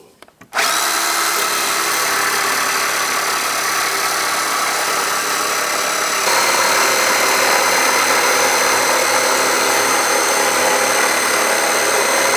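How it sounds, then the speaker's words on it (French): A jigsaw with a fine-toothed blade starts with a click and then buzzes steadily and loudly without pause while cutting a floorboard, its pitch shifting slightly partway through. "la découpe se réalise nécessairement à la scie sauteuse avec une lame à denture fine"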